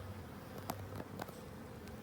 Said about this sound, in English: Now this hive doesn't have as many bees in it as that other hive